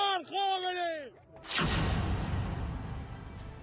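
Gunfire at a street protest in Iran: a raised shouting voice, then a single sharp, loud report that echoes and decays over the next two seconds.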